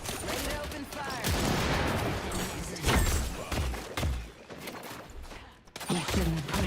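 Rapid gunfire and explosive bursts in a shooter video game fill the clip, loud and dense throughout with thuds and volleys, and a voice talks faintly underneath.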